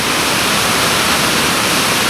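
A steady, loud roar of rushing water at a large waterfall in the Beskid mountains in winter, continuous broadband noise with no break and no voices.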